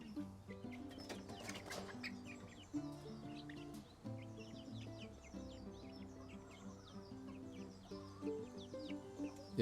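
Backyard chickens clucking as they step out of a Producer's Pride Sentinel coop, a steady chorus of close clucks and chirps over a continuous droning tone, with no talk.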